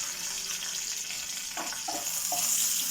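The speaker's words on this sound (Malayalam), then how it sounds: "എല്ലാം കൂടി നമുക്കൊന്ന് ഇളക്കി കൊടുക്കാം കടുക് പൊട്ടിക്കഴിഞ്ഞാൽ എനിക്ക് രണ്ട് പച്ചമുളക് ഇട്ട് കൊടുക്കാം" Mustard seeds and green chillies fry and crackle in hot oil with curry leaves as they are stirred in a pan, a steady close sizzle with a few soft scraping stir strokes.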